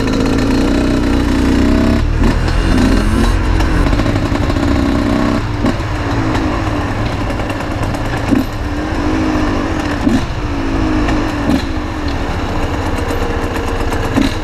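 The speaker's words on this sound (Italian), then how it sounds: "Faremo un giretto in moto, ma non un giretto normale come al solito" A motorcycle engine runs steadily throughout a ride, loud and close, with several brief rises in revs over a continuous low drone.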